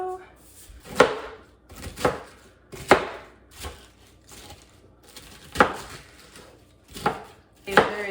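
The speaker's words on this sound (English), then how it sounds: "If there is a science to chopping romaine, I do not know what it is." A knife chops through romaine lettuce on a cutting board in loud, close, irregular strokes, each a crisp thud spaced about a second apart.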